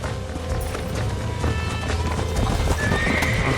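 A horse in the video game Red Dead Redemption whinnies loudly while its hooves clip-clop at a run, close and busy over a dense game soundscape.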